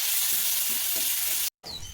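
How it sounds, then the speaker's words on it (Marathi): Chopped green chilli sizzles in hot oil while tempering a vegetable dish, a loud, steady frying hiss close up that cuts out briefly and then resumes. "मिरची बारीक करून घेतल्यावर आता भाजीला फोडणी करून घ्यायची आहे"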